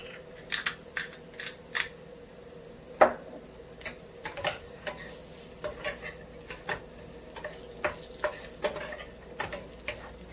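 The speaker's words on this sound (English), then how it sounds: "We see the kale is cooking up." Kale and other vegetables cook in a pan for a beet and rice noodle Thai bowl, a low steady sizzle under frequent light scraping and clinking from stirring, with no voices.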